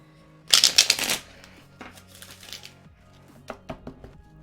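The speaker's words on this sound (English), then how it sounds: "Let me shuffle one more time." A deck of playing cards is shuffled up close in a quick burst of crisp riffling flutters, followed by softer taps and shuffles of the cards.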